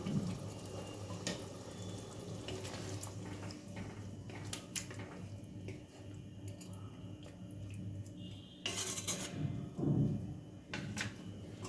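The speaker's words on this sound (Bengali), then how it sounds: "বাটিটা ধুয়ে একদম অল্প করে জল দেব" A bowl is rinsed under running water and then a small amount of water is poured in, with faint splashing, sloshing and a couple of brief clatters nearby in a home kitchen.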